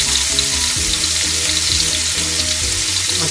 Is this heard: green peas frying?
yes